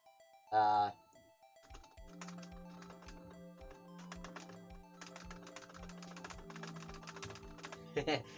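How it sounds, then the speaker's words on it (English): Computer keyboard keys clack in quick irregular runs during a Phoenix Wright: Ace Attorney game session, faint and close, mixed with game music tones and short chimes. "You can definitely hear my keyboard."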